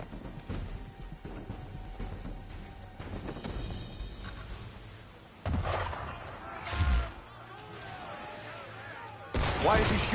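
Cannons fire at sea in Assassin's Creed III, with several muffled booming blasts spaced apart over a low ambient rumble, fairly faint and distant.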